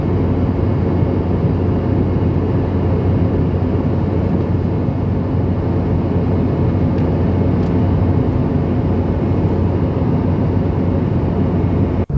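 Steady loud roar inside the cabin of a Delta Boeing 717 during its climb, a constant broadband engine and airflow rumble with no break and no voices.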